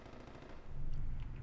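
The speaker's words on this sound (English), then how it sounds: "Gunfire!" Automatic gunfire in the zombie game Dying Light, a sustained burst of rapid shots that swells louder after the first half-second, dense and continuous with no speech over it.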